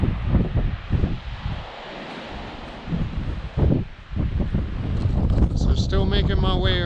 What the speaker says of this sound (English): The wind's picked up on this side.